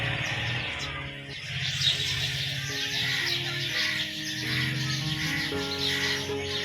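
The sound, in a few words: birds chirping on a rooftop in the afternoon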